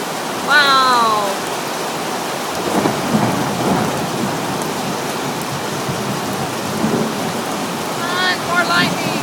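A severe north Texas thunderstorm with hail pours steady heavy rain while thunder rumbles low and rolling underneath. Brief exclaiming voices break in at the start and near the end.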